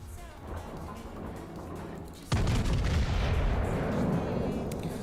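A warship's gun salvo in World of Warships, a single sudden loud boom followed by a sustained heavy rumbling roar that slowly fades, over quieter background sound.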